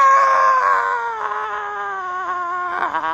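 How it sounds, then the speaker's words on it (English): A drawn-out zombie scream from the video game Stubbs the Zombie, a single sustained, wavering wail that slowly drops in pitch, loud and alone. "good zombie scream"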